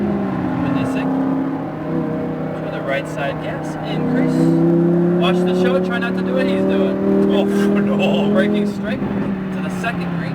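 A Lamborghini Huracan on a racetrack gives a loud, close engine drone whose pitch steps and shifts as it brakes and downshifts, while an instructor talks over it throughout.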